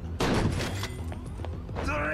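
Gunshots in Yakuza 0 pop in quick dense volleys beneath someone talking, with thumps and game noise mixed through.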